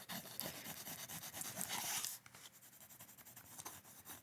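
A pencil sketches on paper up close, with dense rhythmic scratching strokes that swell into a louder rubbing burst before settling into lighter, steady strokes.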